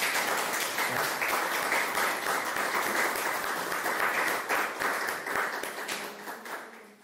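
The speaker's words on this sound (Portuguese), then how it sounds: "É ela realmente que merece uma salva de palmas dentro dessa energia." An audience applauds steadily, a dense wash of many hands clapping that carries on and gradually tapers off toward the end.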